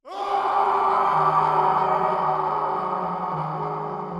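A man screams in pain and terror from down inside a well in an audio drama, one long sustained anguished cry that stays loud and strained with an echoing quality throughout.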